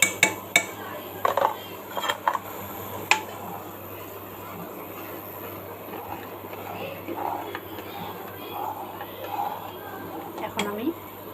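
A spoon stirs zarda pulao in a pot, producing scattered metallic clinks and scrapes, some sharp and close, over a continuous low background hum.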